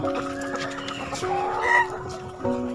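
A rooster crows nearby, a drawn-out cry held over a couple of seconds with a second call starting near the end, against quiet farmyard background and no talk.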